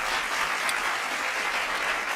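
A canned applause sound effect plays on a podcast, a steady, dense wash of clapping and cheering at an even level for its whole length, with no voices over it.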